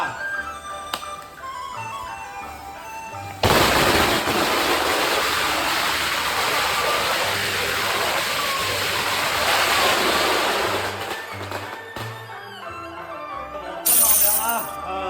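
A long burst of small firecrackers set off for a Lunar New Year business reopening, crackling in rapid succession, loud and dense, with quieter moments before and after.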